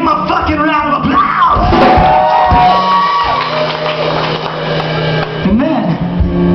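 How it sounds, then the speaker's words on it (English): A crowd at a 2009 vaudeville show roars for a band that has just played its first set together: loud, continuous whoops, yells and cheering voices layered over one another, with shouting throughout. "Give them a fucking round of applause!"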